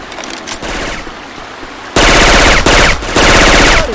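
Loud, rapid automatic gunfire from Syphon Filter weapon sounds plays in Left 4 Dead 2. Several dense, rattling bursts come one after another, each broken by short pauses.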